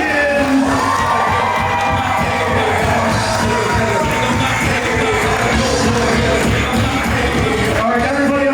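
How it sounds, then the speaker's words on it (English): Wedding guests cheer, shout and whoop loudly as the matron of honor and best man are introduced, a dense, continuous crowd roar with raised voices and yells throughout. "big round of applause for the matron of honor and the best man"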